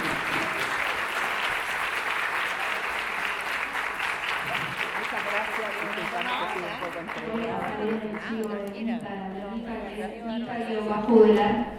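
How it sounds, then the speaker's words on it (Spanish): Sustained audience applause fills a regional conference hall on clear and accessible language for about seven seconds, then fades as a speaker's voice takes over. "Les pido nuevamente un fuerte aplauso para eso."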